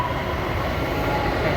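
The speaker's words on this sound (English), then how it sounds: "here comes yet another train" A DART commuter train rolls past at night, a loud, steady low rumble and rushing roar that holds evenly from start to finish, heard up close with no talking.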